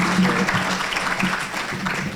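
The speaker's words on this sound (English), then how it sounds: "We give the mayor another round of applause" A crowd at a membership meeting applauds the mayor with steady, dense clapping that stays close and loud before easing slightly near the end.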